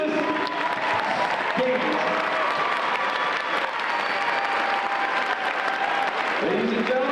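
An audience applauds continuously at a high school ceremony honoring the Kansas Teacher of the Year, a dense wash of clapping throughout, with a voice speaking briefly over it.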